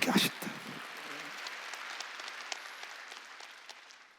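A church congregation bursts into applause during a Sunday worship service, a loud opening burst settling into a steady, fairly faint wash of clapping that slowly thins out.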